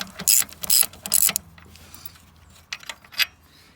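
A ratchet loosens an alternator bracket bolt on a 2003 C5 Corvette: three quick, loud bursts of close clicking, a short pause, then two softer clicking runs.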